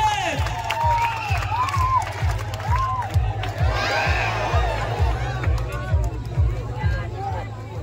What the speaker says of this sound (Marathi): एकदा कासाडीचा जोरदार टाळ्यांचा आवाज येऊ दे.